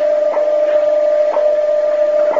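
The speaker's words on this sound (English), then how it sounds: "Those are tones at 1 second intervals" A steady, clear electronic tone from the WWV shortwave time signal hums continuously, with faint ticks marking one-second intervals.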